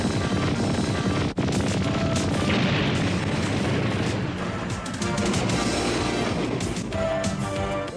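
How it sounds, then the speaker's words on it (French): Cartoon winged cannon fires a dense, continuous barrage of booming shots and rapid blasts, loud and unbroken over roughly eight seconds with a brief dip near the start. "Canon ailé, feu à volonté, force lumière à l'attaque"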